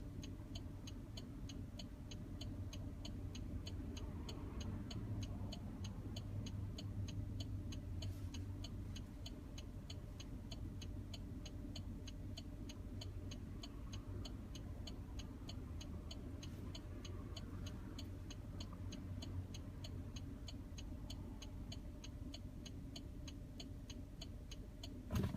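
Steady cabin drone of a 2005 Chrysler Pacifica Touring with a four-speed automatic on the road: continuous low engine and road rumble with a faint regular ticking throughout, no talking.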